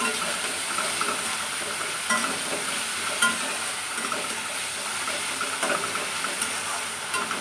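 Onion frying in fish oil in a pan, a dense continuous hiss and crackle, close and steady with occasional faint clinks.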